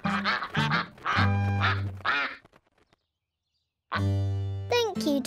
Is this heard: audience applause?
no